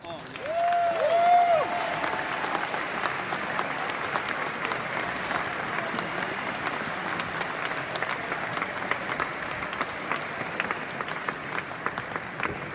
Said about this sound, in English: Big applause for our CEO.